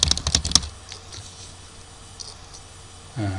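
Rapid keystrokes on a computer keyboard while typing in MS Word come in a short, close burst at the start. Then a quiet room hum follows, and a low thud lands at the very end.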